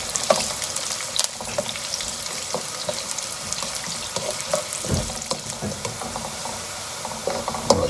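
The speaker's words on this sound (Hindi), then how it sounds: "ये प्याज तकरीबन तैयार होने को है। थोड़ा सा और भूनूंगा" Onions fry in a hot pan for matar pulao, a steady dense sizzle with scattered crackles and occasional stirring scrapes, close and continuous throughout with no voices.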